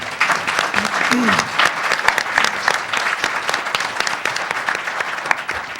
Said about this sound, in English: A round of applause, please, for Peter Rotter